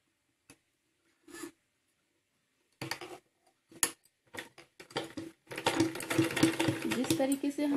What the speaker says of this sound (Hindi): धागे को हर बार इस तरीके से ढीला करते हुए इसके ऊपर सिलाई लगाएंगे।